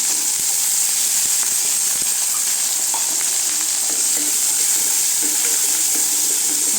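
Shallots, garlic and curry leaves sautéing in a hot pan, giving a continuous hissing sizzle with scattered small pops and stirring taps, up close and with no one talking.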